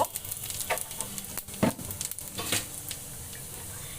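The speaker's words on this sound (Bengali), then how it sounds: "এবার আমি একদম অল্প একটু তেলে জিরে, কাঁচামরিচ এবং কিছু গোলমরিচ টেলে নিব।" Cumin seeds, green chillies and black pepper fry in a little oil, giving a steady close sizzle with stirring scrapes and a few louder pops and clatters, no voices.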